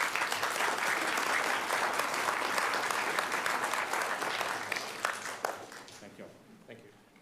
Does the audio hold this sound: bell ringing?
no